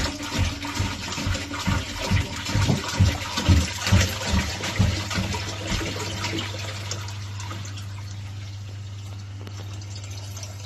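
Water pours and splashes into the sump tank of a second-hand cube marine aquarium, gurgling in pulses for several seconds before settling into a steady, quieter flow with a low hum underneath.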